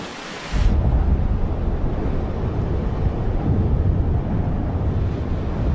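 Wind sweeps over the Komodo dragon islands of Indonesia in a loud, steady, rumbling roar that fills the whole stretch without a break after a brief quieter opening.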